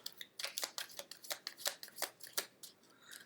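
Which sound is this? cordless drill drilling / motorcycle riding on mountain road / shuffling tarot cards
shuffling tarot cards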